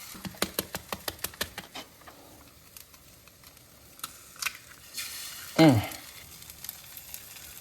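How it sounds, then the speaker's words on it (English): Corn and rice cook in a pan, with quick light scraping and tapping from a spatula, soft sizzling under it and a short squeak near the end, all fairly quiet and close. "Corn and rice cooking."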